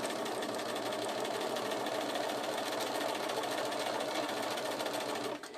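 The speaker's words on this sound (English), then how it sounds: "we're going to sew" Domestic sewing machine running steadily as fabric pieces are stitched together, a continuous close whirring hum that holds for over five seconds and drops off abruptly at the end.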